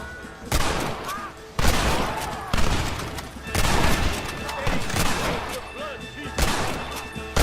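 Heavy gunfire in a Red Dead Redemption shootout: loud volleys of rifle and pistol shots crack in dense bursts at irregular intervals, with shouted voices mixed among the shots.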